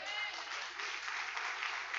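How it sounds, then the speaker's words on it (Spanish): A church congregation applauds in praise during a Spanish-language sermon, a steady wash of clapping held for the full two seconds at a moderate, fairly distant level. "Dale un aplauso al Señor que es tan bueno"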